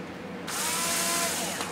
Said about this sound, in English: we'll drill a hole, not all the way through, just about halfway through the wood is all you need.